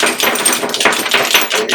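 House keys scratched hard against a phone screen in a scratch test, a loud, close, gritty scraping with rapid rough strokes that stays steady throughout and has no talk over it.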